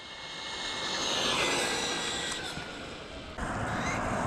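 A Rlaarlo Omni Terminator RC car on a 3S pack with a 24-tooth pinion makes a full-throttle speed pass, its high-pitched motor whine rising and swelling as it nears, then dropping off, with no talking.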